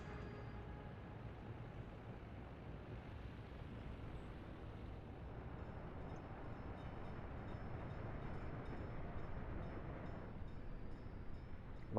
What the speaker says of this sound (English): Long trains are best trains.